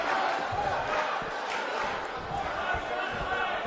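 Roaring arena crowd in the wrestling video game WWE 2K19, a dense continuous wall of cheering and shouting with thuds underneath, loud and unbroken.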